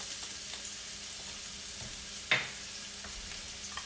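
Shallot dropped into hot oil in a pan, a steady soft sizzle running throughout with one brief sharper crackle burst midway, fairly quiet and close.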